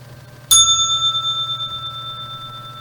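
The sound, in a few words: bell rung to close a trading broadcast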